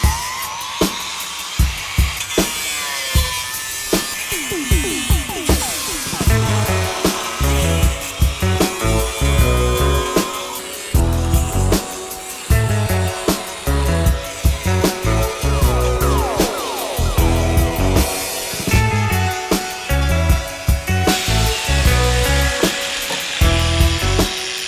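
A power tool chops through a metal strut support on a Porsche 356-bodied 718 restomod, giving a loud, harsh, continuous grinding and rattling with choppy bursts and brief pauses throughout, and no talking.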